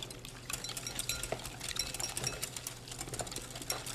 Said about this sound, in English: you can go ahead and whisk all that straight into there